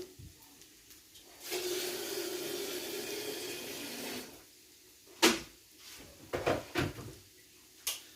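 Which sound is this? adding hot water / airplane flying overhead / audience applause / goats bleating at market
adding hot water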